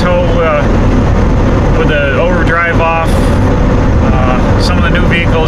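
A 1998 Ford Econoline E350 van with an automatic transmission, towing a trailer at about 60 mph in third gear with overdrive off, gives a steady loud road and engine roar throughout while someone talks over it.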